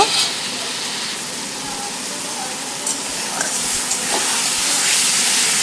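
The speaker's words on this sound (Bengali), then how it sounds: "আলু দিয়েও কিছুক্ষণ মশলাটা আমি কষিয়ে নেবো" Pre-fried potatoes go into spice paste cooking in a pan, giving a steady loud sizzle and hiss that keeps going, with a few faint clinks near the end.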